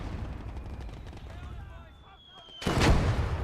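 A mortar round from Gates of Hell: Ostfront bursts with a sudden loud, broad blast near the end, after a stretch of scattered distant gunfire and a brief descending whistle.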